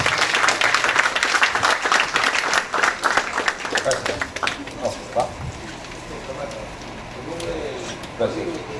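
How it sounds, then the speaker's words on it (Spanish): Seminar attendees applaud a visiting speaker with a loud burst of clapping that quickly thins to scattered claps, while voices speak over the fading applause. "Un aplauso, por favor, para el doctor Camata"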